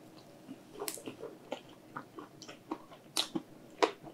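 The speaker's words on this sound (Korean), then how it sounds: "피자 한 입 더 먹어볼게요" Someone bites and chews Domino's cereal chili crab pizza with crispy cereal topping and pineapple, giving close, quiet crunches and wet chewing clicks in an irregular rhythm with no talking.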